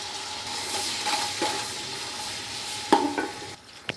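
Ginger garlic paste frying in a cup of oil with browned onions for chicken pulao, a soft steady sizzle with occasional spoon scrapes and clinks against the pot.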